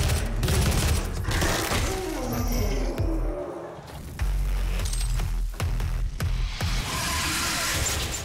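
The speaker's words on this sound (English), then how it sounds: "Not quite sure who the hell is shooting at me." Enemy weapons firing during a DOOM (PS4) battle against demons, a dense, loud barrage of shots and impacts blended with heavy game noise and low rumble throughout.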